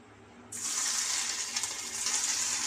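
Marinated chicken pakoda pieces hit hot frying oil with a sudden loud sizzle that bursts in and then holds as a steady hiss.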